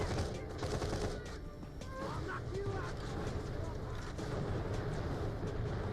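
Turret gunfire in Fallout 4 on Survival difficulty, a dense, loud barrage of booming shots mixed into constant game noise that never lets up.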